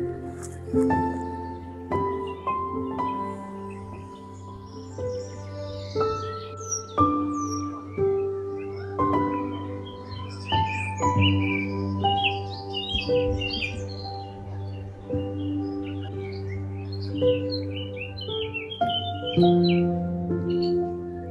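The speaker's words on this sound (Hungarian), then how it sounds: "Ez volt a madárkám." A small pet bird chirps and squawks in short, repeated bursts over a steady tonal background hum, the calls scattered irregularly throughout and fairly close.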